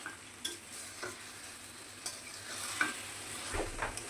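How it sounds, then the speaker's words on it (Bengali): Mutton curry being stir-fried in a pan over a medium flame, a soft continuous sizzle with faint scraping strokes at intervals, quiet and alone without speech. "তারপরে মিডিয়াম ফ্লেমে মাটনটাকে কষে নিতে হবে।"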